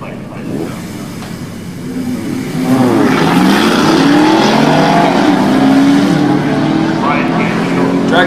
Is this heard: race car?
yes